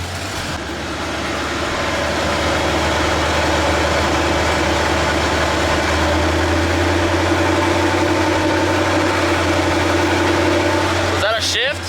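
An LS-swapped Mustang with a 4L80E transmission runs in drive, its engine droning loudly and steadily, rising under throttle, with a faint voice nearby.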